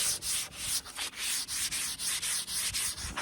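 Rhythmic sandpaper rubbing on the wooden part of a wheel hoe, close and steady, with quick back-and-forth strokes in a regular pattern and no talking.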